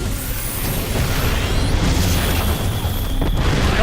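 StarCraft 2 siege tanks fire heavy booming shots inside a dense, continuous wash of loud battle noise. No voices are heard.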